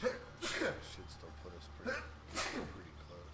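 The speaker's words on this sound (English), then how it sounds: "I just sneezed so hard, I had to poke my eyeballs back into my skull." A person sneezes hard while playing a survival video game with friends, giving sharp, forceful bursts close to the microphone between stretches of conversation.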